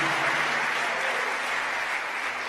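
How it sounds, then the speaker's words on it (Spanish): Church congregation clapping together in steady, dense applause throughout, fairly close and continuous with no voices standing out. "Démosle palmas a ese Señor bendito que sale de la Biblia"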